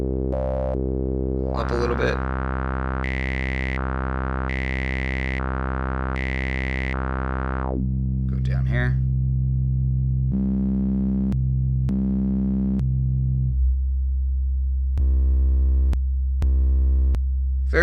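ASM Hydrasynth synthesizer playing a low-pass filtered patch: sustained held tones and a stepping sequence of low notes with short bursts between them, loud and alone.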